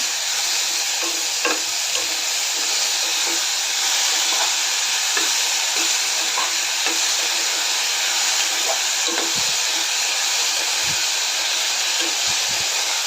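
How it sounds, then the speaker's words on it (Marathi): Potatoes and fresh green peas frying in a pan for aloo matar pulao, a constant loud sizzle and hiss with repeated scraping stirs of a spatula throughout, no talking. "आपण बटाटे घालूया आणि ओले मटार हे दोन्ही चांगलं परतून घेऊया"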